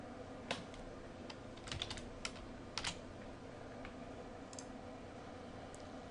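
Keys clatter on a computer keyboard as answers are typed in: sparse clicks and short bursts over a steady hiss, close but soft.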